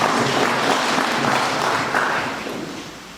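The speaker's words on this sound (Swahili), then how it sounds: "Naomba tupige makofi mheshimiwa" A crowd applauds at a public gathering on improved health insurance, a dense burst of clapping that holds steady and then begins to fade at the end.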